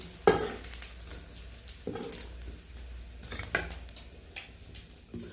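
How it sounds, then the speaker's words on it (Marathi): Bombay duck fish fry in hot oil, giving a soft steady sizzle broken by several sharp clinks and scrapes of a utensil against the pan. "पाहू तेलामध्ये गरम करून घेतो आहे"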